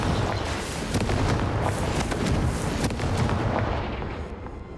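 A Confringo explosion spell in Hogwarts Legacy bursts with a loud, dense roar of booming blasts and crackling debris that stays strong throughout before easing slightly at the end.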